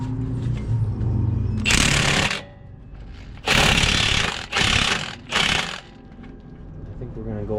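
An impact gun hammers loudly in several bursts on a Tacoma's suspension bolts, straining in harsh rattling blasts of a second or two with pauses between, while someone talks during the gaps.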